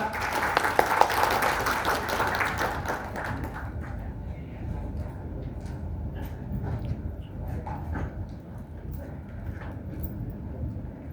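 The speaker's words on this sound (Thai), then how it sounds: "ขอเสียงปรบมือหน่อยครับ" Audience clapping at a ceremony launching a Thai amulet association in a hotel in Bangkok, loudest at first then thinning to scattered claps and murmuring as a speaker prepares to talk.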